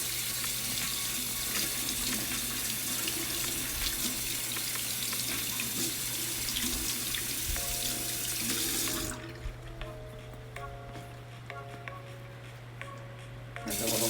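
Tap water runs steadily into a bathroom sink while makeup brushes are rinsed, a constant close hiss that cuts off partway through, followed by faint handling sounds.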